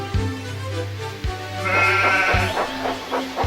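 Sheep bleat loudly and repeatedly nearby, several wavering calls overlapping with short thumps between them.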